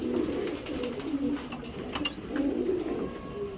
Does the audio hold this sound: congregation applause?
no